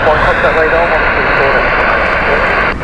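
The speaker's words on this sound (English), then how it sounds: "This is Aegean Airbus A321 Neo" An Aegean Airlines Airbus A321neo at Heathrow gives a loud, steady, close jet-engine roar throughout, with a voice audible under the noise.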